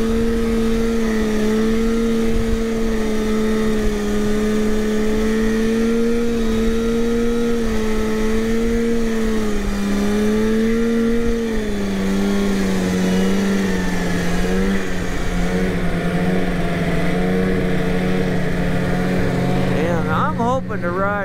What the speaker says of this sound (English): My new Indy 440. It's a fun sled.